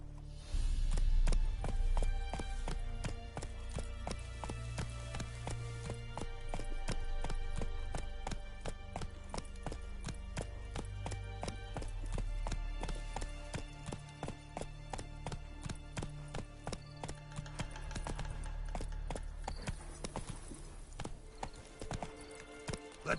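Roach, a horse in The Witcher 3: Wild Hunt, galloping with a steady rapid clip-clop of hooves that runs the whole time, loud and close over a low rumbling game soundtrack, with an occasional whinny.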